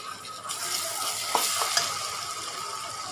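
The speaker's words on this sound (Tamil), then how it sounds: "எல்லாம் ஒன்றா இதோடய போட்டு வதக்கிக்கலாம்." Ginger garlic paste with yogurt sizzles steadily as it is stirred in a hot pan for kalari curry, a close, continuous frying hiss with a few faint scrapes and no talking.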